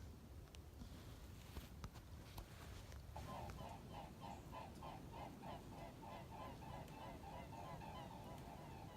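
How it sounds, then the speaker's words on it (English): Swans call while flying over a wooded area, a run of honking cries arriving after a few seconds, rhythmic and moderately distant over faint outdoor background. "A couple swans flying over."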